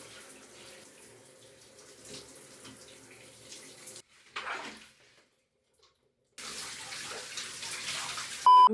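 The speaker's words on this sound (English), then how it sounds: "I might get in the shower right here and I'm gonna go ahead and wash this out of my hair." Shower water runs steadily while someone rinses product out of their hair, a broad close hiss with a brief quieter break in the middle before the spray returns.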